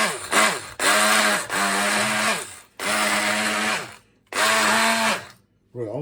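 A hand blender blends marinade ingredients in bursts of about a second each, a loud whining motor with a falling-rising pitch, separated by brief pauses, four or five pulses in total, with no talk over it.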